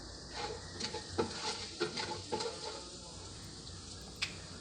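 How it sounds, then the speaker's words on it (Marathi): Asafoetida and cumin seeds sizzling in hot oil for amla chutney, a quiet steady fizz with a series of light stirring taps and scrapes, close but faint. "हिंग देखील आपला छान असं तेलामध्ये परतवून घ्यायचा आहे."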